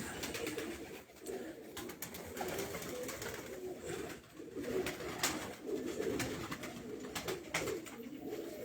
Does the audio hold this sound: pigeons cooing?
yes